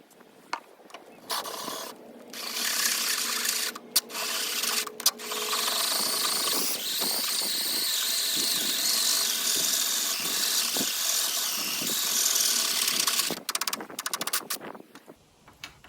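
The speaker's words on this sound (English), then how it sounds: "So I'm going to go ahead and just drill that hole." A power drill whirs steadily for most of the stretch, boring a hole in a Jeep Wrangler JK, with brief pauses and restarts, close and loud.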